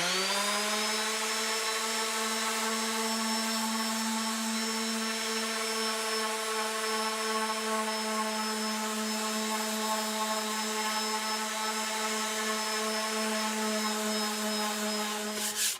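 A power sander fitted with a 120 grit pad works over a wooden plaque, producing a steady, loud whine with a constant pitch that lasts the whole time and then cuts off abruptly at the end.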